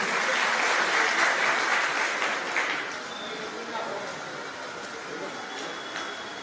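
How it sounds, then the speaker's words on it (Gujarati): A rally crowd in Patan, Gujarat claps loudly to welcome a guest, a dense, steady burst of applause that fades after about three seconds into a softer, lingering patter and room noise. "આપણે એમને તાળીઓથી પાટણ વિધાનસભા વતી જોરદાર સ્વાગતથી વધાવીએ છીએ."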